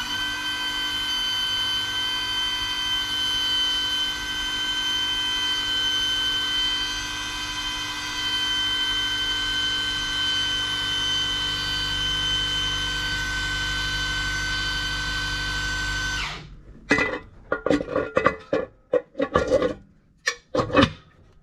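Oil priming of a 1971 Plymouth Duster big block engine makes a steady, close mechanical whir with a droning tone for about sixteen seconds, then cuts off abruptly, leaving scattered clicks and clunks.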